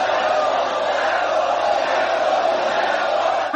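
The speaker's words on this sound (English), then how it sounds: "The crowd is chanting Rambo." A large crowd chants Rambo in Rambo III, a dense, loud, continuous roar of many voices with no clear individual words.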